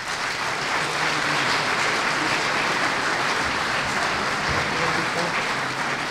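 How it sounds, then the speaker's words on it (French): Loud, dense applause from an audience at the Beffrois de Cristal awards ceremony in Charleroi, a sustained wash of clapping that continues unbroken for about six seconds. "Je vous demande de l'applaudir."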